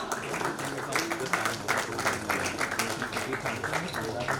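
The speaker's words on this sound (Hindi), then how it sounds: "Rajendra college of nursing Lucknow, शुभकामना रूपी तालियां।" Audience clapping at a certificate ceremony for nursing and paramedical institutes in Lucknow, a fairly soft, dense patter of hands that carries on steadily throughout.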